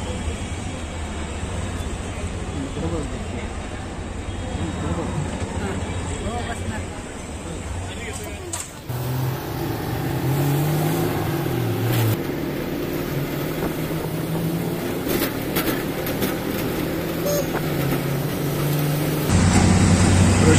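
A shared vadap passenger car carries people through Pune city traffic, its engine and road rumble droning steadily throughout while passengers chat and murmur inside the cabin.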